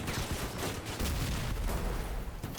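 Dense machine-gun fire from several vehicle guns in the Crossout combat game, a continuous rattling barrage of rapid bursts that runs the whole time, loud and close.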